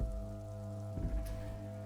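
Rain patters on surfaces in a video game scene with empty wine bottles lying about, a soft steady hiss layered over a low sustained musical hum.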